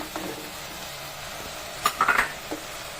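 Cubed potato, carrot and cauliflower being sautéed in a pan: a soft low sizzle with a brief burst of clattering and scraping as the vegetables are stirred, then quieter frying.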